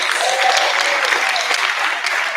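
Audience at a school reunion applauding, a dense, steady round of clapping from many hands, fairly close and loud throughout the short stretch.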